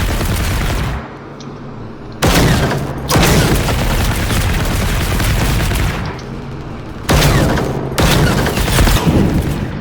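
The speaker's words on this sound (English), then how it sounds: "Firebird shoots a burst of missiles constantly, and it's very hard to avoid" In the video game Generation Zero, a Firebird robot fires bursts of missiles, loud sustained roaring volleys of blasts in several long waves separated by short lulls.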